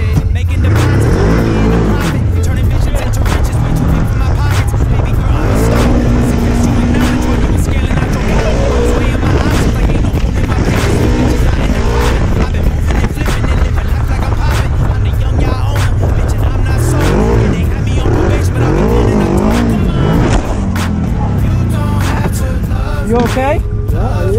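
Four-wheel-drive truck in two-wheel drive high range, engine revving hard: a loud, continuous roar rising and falling with throttle, rough and close, with voices talking over it.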